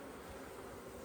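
Honey bees from a swarm buzzing steadily during hive work, a dense, continuous hum that fills the whole moment without pause, close by and fairly quiet, with no talking.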